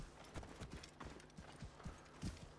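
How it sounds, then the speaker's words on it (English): Horse hooves clip-clop at a steady trot in the game Assassin's Creed Origins, rhythmic and moderately close with no talk over them. "let's call in my horse"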